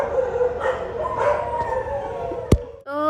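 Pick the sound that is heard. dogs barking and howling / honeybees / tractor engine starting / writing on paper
dogs barking and howling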